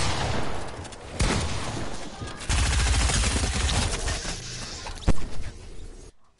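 Loud bursts of gunfire in a Fortnite 2v2 box build fight, dense rattling shots with a few heavy impacts, shifting in intensity before cutting to silence at the end.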